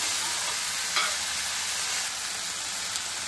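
Coriander mixture sizzles steadily in a hot pan while a spoon stirs it, with a couple of brief scraping strokes standing out over the constant close hiss.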